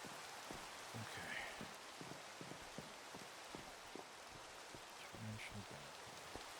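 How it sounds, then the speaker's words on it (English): Torrential downpour in Minecraft, a continuous hiss of heavy rain close by with scattered soft patters and taps on surfaces, steady and fairly quiet throughout. "Torrential downpour."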